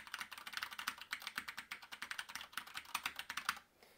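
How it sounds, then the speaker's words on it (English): Mechanical keyboard with a 40% layout and 47 keys on a homemade AVR-powered 8-bit home computer, typed in a fast, steady run of crisp clacking keystrokes, close up with no talk, ending abruptly. "As you can see, it's got a mechanical keyboard."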